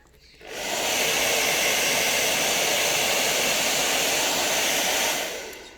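A hair dryer, used on an acrylic pour painting, switches on and blows with a loud, steady whooshing roar for several seconds, then winds down at the end.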